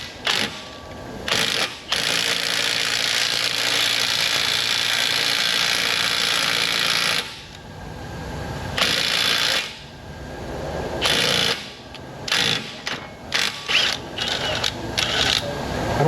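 A power tool with a stud installation adapter pulls a wheel stud into a hub, whirring loud and steady for several seconds, then cutting in and out in shorter bursts.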